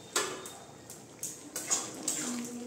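Spoon clinking and scraping against a pot while chana dal with soya bean curry is stirred after coriander leaves and garam masala go in, several short knocks spaced through the stir.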